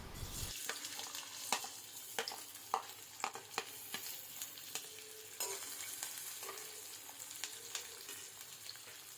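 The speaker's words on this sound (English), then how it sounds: "We will just fry these onions till they are a bit soft." Sliced onion fries in hot oil in a pan, a steady bright sizzle broken by repeated sharp clicks and scrapes of stirring, close up with no talk.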